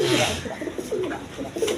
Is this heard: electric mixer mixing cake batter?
no